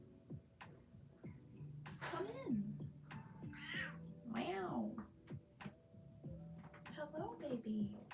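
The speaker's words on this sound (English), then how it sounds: "my cat Olive wants to come in" Olive, a pet cat, meows a few times from nearby, rising and falling calls spaced over several seconds against a quiet indoor room with light tapping.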